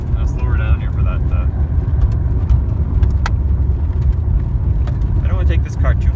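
A 1994 Buick Regal hums along from inside the cabin with steady low engine and road rumble while it slows, and someone talks over it.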